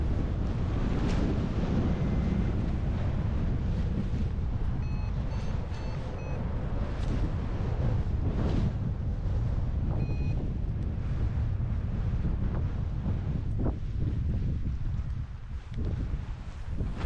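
Gusty wind roars through a valley at Los Gigantes, Tenerife, as a paraglider comes in to land, a constant heavy rumble of buffeting against the microphone, loud and close throughout.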